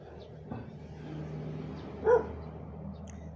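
A single dog bark rings out at a distance over steady background rumble and traffic-like noise.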